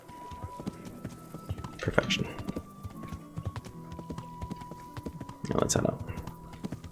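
Horse hooves clip-clopping in a steady trotting rhythm from the medieval video game Kingdom Come: Deliverance, moderately close, with a louder burst of hoofbeats near the end and a voice talking over them.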